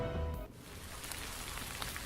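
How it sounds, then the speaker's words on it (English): Rain falls steadily in the Dark Nights horror game, a continuous hissing patter that takes over after a short tonal cue fades out. "It starts to rain when I arrive."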